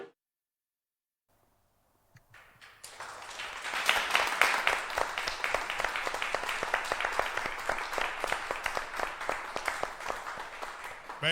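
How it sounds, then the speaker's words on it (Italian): Audience applause at a parish carnival youth festival, rising after a brief silence into sustained, dense clapping from a large crowd, loud and close. "abbiamo anche provato l'applausometro, ho visto che funziona benissimo"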